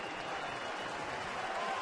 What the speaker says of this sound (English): He'll get a terrific round of applause here